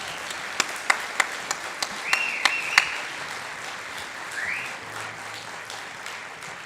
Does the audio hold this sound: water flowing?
no